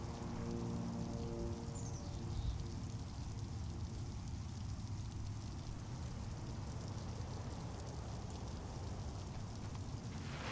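Steady rain falls on the field in the baseball video game MLB The Show 21, a continuous soft hiss that lasts the whole stretch, with a brief low tone near the start.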